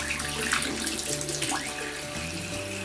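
Running tap water rinses a makeup brush, a steady close splashing and trickling that carries on without pause.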